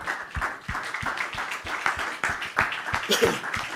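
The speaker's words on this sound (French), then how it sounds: "Clap your hands for the Lord." A church congregation claps hands in a steady rhythm, about three claps per second, loud and close, with a preacher's voice and singing woven through the beat.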